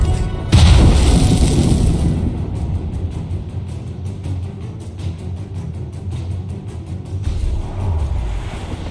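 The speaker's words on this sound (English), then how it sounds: "They're firing, sir!" Enemy ship cannons firing in Assassin's Creed Rogue, a heavy boom followed by a long rumbling, crackling roll of a broadside volley heard close and loud, with no voices.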